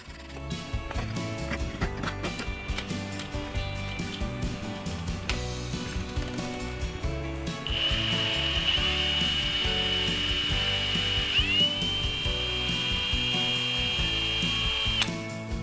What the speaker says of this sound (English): You'll want to use 2 wrenches here to jam the 2 nuts together, while allowing the paddles to rotate freely.